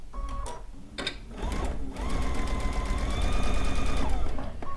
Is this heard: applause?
no